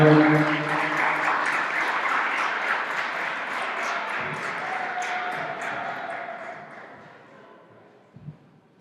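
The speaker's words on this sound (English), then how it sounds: "Let's clap it up, everybody." A school audience at a Democracy Prep event claps together, a dense burst of applause that gradually thins and fades, with a few faint knocks and a sharp ping at the end.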